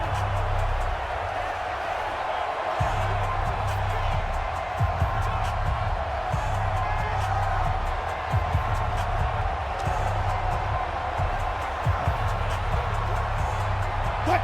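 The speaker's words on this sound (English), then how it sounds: "The crowd getting into it as we come up on a big 3rd down" Stadium crowd in the video game Madden 20, a steady broad roar of fans building toward a big third down, with a voice talking over it throughout.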